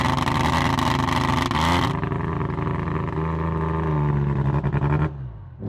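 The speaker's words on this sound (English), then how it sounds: "So this is our very first time of appreciating the exhaust" A car's exhaust revs hard while the driver plays with the paddle shifters, giving a loud, raspy roar with shifting pitch that holds for several seconds and then cuts off abruptly.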